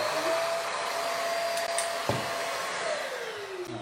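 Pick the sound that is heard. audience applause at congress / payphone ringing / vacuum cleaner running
vacuum cleaner running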